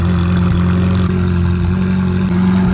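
A Ferrari 488 GTB fitted with an IPE exhaust idles loud and close, a steady, deep mid-pitched engine drone with faint clatter that holds without pause throughout.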